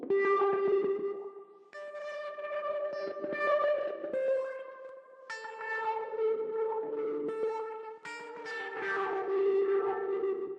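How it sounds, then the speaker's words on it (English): Electric guitar chords and melodic lines drenched in echoing reverb and wobbly tape-delay modulation, sustained and loud throughout, with notes blurring into a washy tail. "this is what the guitars sound like with all those effects"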